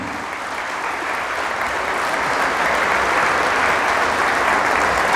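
Loud, sustained applause from a church congregation clapping for the Lord Jesus during a Catholic sermon: a dense, even roar of many hands that swells slightly and holds strong for over five seconds.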